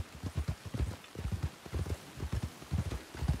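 Horse hooves clip-clopping in a steady, rapid rhythm in the RedM western roleplay game, close and clear with no talk over them.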